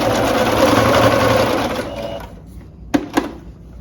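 Close, loud sewing machine whirs steadily while stitching elastic onto a long dress, winds down after about two seconds, then two sharp clicks follow in near silence.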